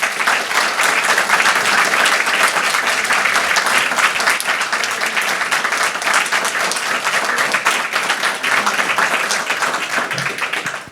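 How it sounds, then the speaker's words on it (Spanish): Audience at a book presentation in San José breaks into sustained, dense clapping that stays loud for the whole stretch before starting to thin at the end. "Así que solo gracias y un gran aplauso."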